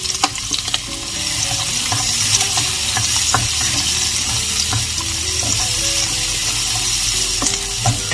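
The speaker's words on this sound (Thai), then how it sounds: "เราจะผัดหอมใหญ่ให้มีกลิ่นหอมเลย" Onions frying in a hot pan at the start of a pork curry, a steady loud sizzle with scraping stirs and occasional clinks running throughout, no talking.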